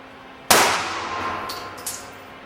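A single loud, close pistol shot from a Beretta Pico compact handgun cracks sharply and rings out in a decaying tail, followed by faint metallic clinks, with no talk.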